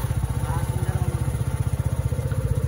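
A motorcycle engine idles close by with a fast, steady thumping pulse at an early-morning riverside stop, loud and continuous with no speech over it.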